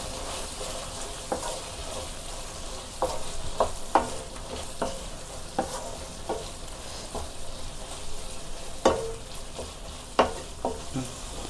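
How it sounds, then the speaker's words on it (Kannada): Chicken liver pepper fry, coated with garam masala and black pepper powder, cooks in a pan with a soft steady sizzle, broken by irregular sharp scrapes and clacks of a spoon stirring it. There is no talk. "ಇದನ್ನು ಇನ್ನೂ 2 ರಿಂದ 3 ನಿಮಿಷ ಚೆನ್ನಾಗಿ ಫ್ರೈ ಮಾಡಿಕೊಳ್ಳಿ"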